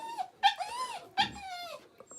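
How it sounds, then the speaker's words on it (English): Gizmo, a dog indoors, lets out a few short, high whining yelps close by, two sharper cries with quieter whimpers between them, rather than full barks. "Stop barking."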